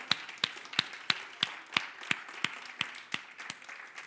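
A church congregation claps in a steady rhythm, about three sharp claps a second, close and fairly loud, with no talking over it.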